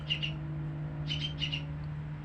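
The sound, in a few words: oriental magpie-robin (kacer) chirping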